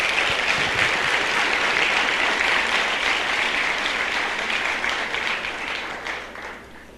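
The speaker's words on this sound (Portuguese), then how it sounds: "Se você crê nisso, aplauda o Senhor Jesus" A church congregation applauds together in sustained, dense clapping that stays loud for most of the stretch, then gradually thins and fades toward the end.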